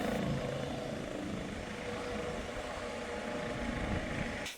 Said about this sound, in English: There is a life flight helicopter that lives here, and they're staffed 24/7 on call. So this was just arriving from a call,